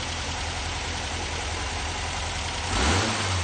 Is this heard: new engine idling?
yes